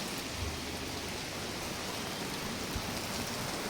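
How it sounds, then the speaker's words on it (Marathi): Steady rain falls outdoors right after a Yamaha MT15 and Bajaj Pulsar 150 motorcycle wash, a continuous soft hiss of drops with no voices. "क्लिनिंग केल्याच्या नंतर पाऊस आला, त्याला तरी काय करणार आपण."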